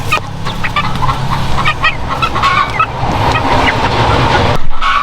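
Rhode Island Red chickens cluck and squawk repeatedly inside a DIY grower house, a busy flock chorus of overlapping calls over steady low background noise.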